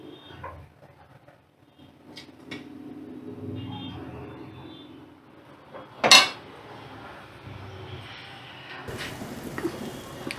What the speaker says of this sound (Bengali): দেখো এটা এবার আমি প্লেটে সার্ভ করে দিচ্ছি।